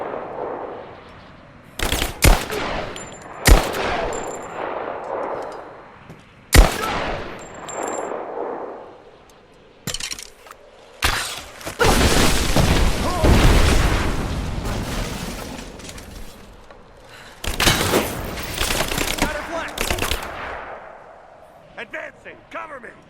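Video game gunfire in Rise of the Tomb Raider: bursts of automatic fire and sharp single shots, loud and close, with explosive booms and a sustained roaring stretch of combat noise, while voices call out between shots.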